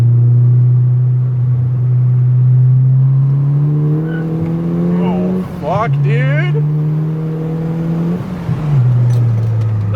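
A Subaru STI accelerates hard with a loud, close engine drone rising in pitch through gear changes, and a brief tire chirp; a voice exclaims inside the car.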